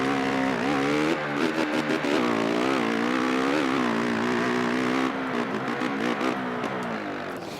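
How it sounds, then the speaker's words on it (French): A motocross bike engine in a video game buzzes and revs continuously, its pitch wavering up and down with quick shifts and rapid throttle stutters, loud and upfront with no talk over it. "je vais vous laisser écouter d'ailleurs le bruit du moteur"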